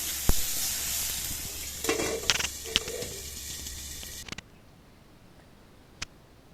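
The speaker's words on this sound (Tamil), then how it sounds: "சிம்மில் வச்சு வதக்கிக்கலாம்." Chopped tomatoes sizzle softly in a pan on low heat for a greens chutney, a steady hiss broken by a few stirring scrapes. The sizzle cuts off partway through, then near silence follows with one sharp tick.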